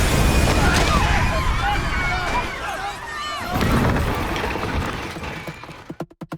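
A loud, rumbling car explosion with crackling, whooshing debris that slowly dies away, ending in a few sharp thumps.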